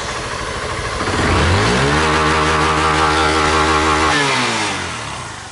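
A 2011 Honda Titan 150 motorcycle engine, just fitted with a new fuel pump, idles, then revs up and holds a high steady drone before settling back toward idle, loud and close.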